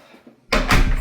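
An interior door in a beach house opens with a sudden loud clunk and rattle, close by, following a faint quiet moment.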